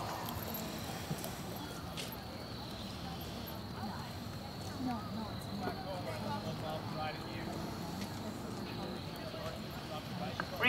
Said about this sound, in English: Walk your horses all walk.